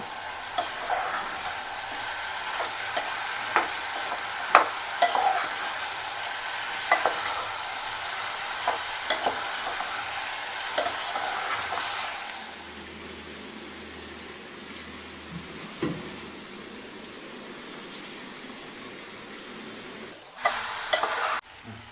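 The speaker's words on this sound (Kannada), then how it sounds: "ಇದಕ್ಕೆ ಸ್ವಲ್ಪ ಅರಿಶಿನ ರುಚಿಗೆ ತಕ್ಕಷ್ಟು ಉಪ್ಪು ಇದು ಸ್ವಲ್ಪ ಎಲ್ಲ ಮಿಕ್ಸ್ ಮಾಡೋಣ" A spoon stirs raw banana pieces with turmeric and salt in a pan, scraping and clicking irregularly over a gentle sizzle. The stirring then stops, leaving a quieter frying hiss with a few faint knocks.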